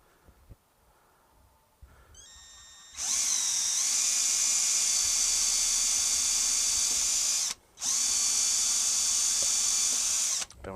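Close and loud, a power drill whines steadily as it bores into a wooden block for a fretboard radius jig. After some quiet handling knocks, a long run is broken by one brief pause before the motor spins up again, with no voices.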